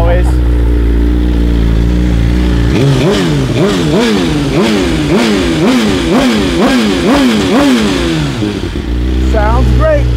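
BMW S 1000 RR sportbike with a full fuel tank revs hard in a run of rapid rising and falling throttle blips over a steady idle, loud and close, before settling back to idle, with voices around it.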